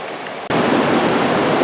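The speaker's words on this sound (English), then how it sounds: "So this is the area where the waterfalls are at." A waterfall rushes just downstream from a bridge, a steady broadband roar that starts abruptly and continues loud and unbroken.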